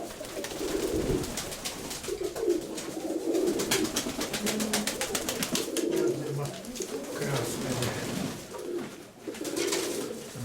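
Fancy pigeons coo repeatedly in soft, low, throaty phrases close by, while someone talks over them and a rapid clicking or rustling runs through the middle of the recording.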